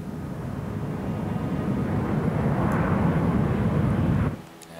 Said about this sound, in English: As a plane flies over.